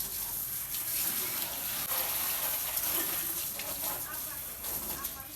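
Running water splashing and gushing while a vehicle is washed outdoors in the evening, a steady broadband hiss with small bursts of spray, continuous and moderately loud, with a voice talking faintly beneath it.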